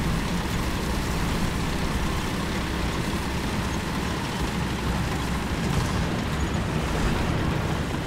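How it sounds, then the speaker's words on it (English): Artillery strike explosions in War Thunder, heard as a dense, continuous rumbling roar of blasts and engine noise, loud and unbroken throughout. "So I'm gonna use my artillery here."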